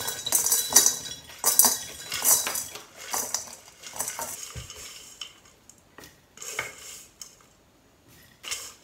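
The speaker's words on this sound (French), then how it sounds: "Donc je vais remplir mon bocal à l'aide de l'entonnoir et de la petite louche" Homemade granola with added fruit is funnelled into a jar with a small ladle, giving irregular metallic scrapes, clinks and rattles. These come in busy bursts at first, then thin out into sparser taps.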